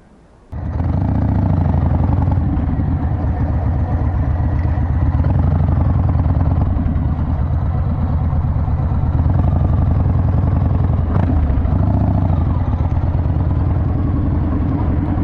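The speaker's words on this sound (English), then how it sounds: "But the one thing I don't like about this exhaust is that it doesn't have heat shields on it." A 2008 Yamaha Raider motorcycle starts up and its exhaust holds a loud, close, lumpy idle with rhythmic low pulsing and a brief blip partway through.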